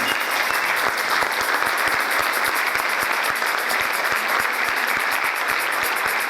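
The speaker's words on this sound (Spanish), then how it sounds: "Ese aplauso tiene que ser de cariño," A church congregation on its feet applauds a welcome for a visiting couple, dense steady clapping from many hands filling the room without a break.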